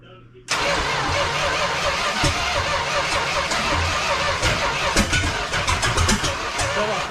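A 1974 Dodge Charger engine cranks and fires after a brief quiet moment, then settles into a loud, rough, close idle with uneven pulsing and a few sharp pops through the rest.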